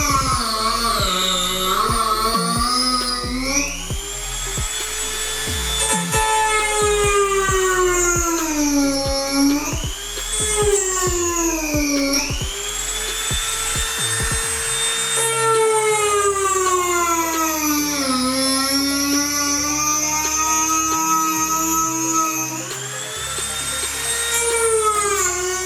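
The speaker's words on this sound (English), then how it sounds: "I'm gonna take a Dremel cutting tool and just cut this very thin piece out here" A Dremel cutting tool slices a very thin piece out of a car part near the hood, giving a loud, continuous high whine whose pitch keeps sweeping up and down as the tool loads and frees, with no voices.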